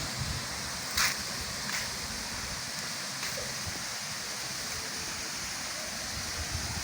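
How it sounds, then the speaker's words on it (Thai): A waterfall across the road from a forest-park visitor service point in Thailand gives off a steady, faint, even rush of water, with no talking. "น้ำตกอยู่ฝั่งถนน ฝั่งโน้นนะครับ"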